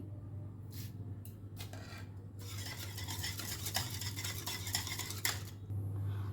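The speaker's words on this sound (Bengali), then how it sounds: "সব কিছু একসাথে ভালো করে গুলে নিয়েছি" A spoon stirs kadhi batter mixed with chili powder and sugar in a bowl, giving repeated close scraping and clinking strokes over a steady background hum, with no talking.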